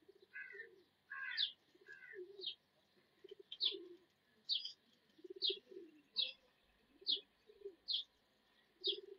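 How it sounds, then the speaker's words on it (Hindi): Pigeons coo in repeated low, rolling calls, close and fairly quiet, joined by regular higher chirps from a bird in a rhythmic series; no talking. "और ये उड़ने वाले कबूतर हैं"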